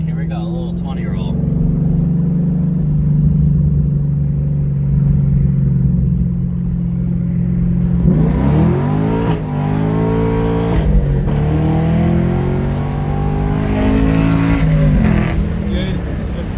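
2014 Chevrolet Camaro SS 1LE V8 engine droning steadily while cruising, then rising in pitch as it accelerates hard through gear shifts during a 20 mph roll, loud inside the cabin with people talking over it.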